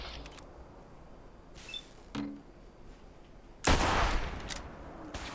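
A single loud anti-materiel rifle shot goes off in Fallout 76 with a sharp, powerful crack. A broad rumbling tail follows, and fainter clicks and shuffles come before it.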